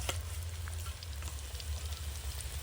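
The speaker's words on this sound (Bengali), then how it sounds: "আমি সমস্ত আলুগুলোই দিয়ে দিই একসঙ্গে ফ্রাই হয়ে যাবে" Potato pieces frying together in hot oil in a pan for a chicken biryani, a steady close crackling sizzle that runs unbroken throughout with no talking.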